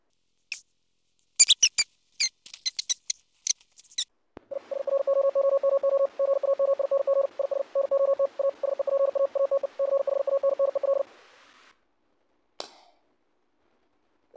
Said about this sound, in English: Type in Morse code.